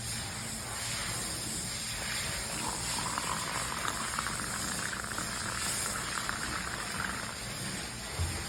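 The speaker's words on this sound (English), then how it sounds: "Always use distilled water like I mentioned earlier, and we're slowly going to add this in here, a little bit at a time." Distilled water poured slowly, a little at a time, into a portable HydroZen hydrogen infusion device, giving a steady, close, hissing trickle that runs unbroken throughout with no talking.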